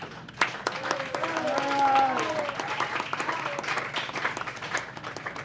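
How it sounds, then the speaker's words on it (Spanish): An audience applauds at a tribute event for the composer Tite Curet Alonso, a steady wash of clapping with a few cheering voices mixed in, fairly soft overall. "Un aplauso."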